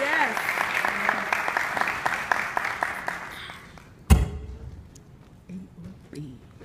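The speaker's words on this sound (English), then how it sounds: "Let's give a big round of applause for Marlena of All One Body Ministries as she comes to bless us." Applause for a guest minister at a church gathering fills the first half, then a sharp thump cuts in as the clapping fades, followed by scattered voices and light noises.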